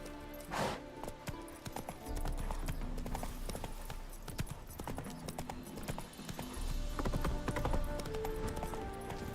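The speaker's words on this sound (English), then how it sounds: "Horsey! Come on, Roach." Horse hooves clip-clop steadily in The Witcher 3 as the horse travels, a continuous rhythmic trot over a busy game soundscape with no talking.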